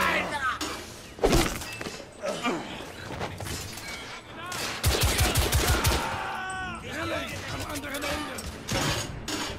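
Shotgun blasts and other gunfire in the Victorian-era shooter game The Order 1886, heard as loud, repeated bursts amid clattering impacts and mechanical noise, with speech heard between the shots.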